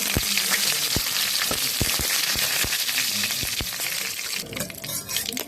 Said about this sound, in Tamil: கடுகை போட போகிறோம். கருவேப்பிலை போடுறோம்.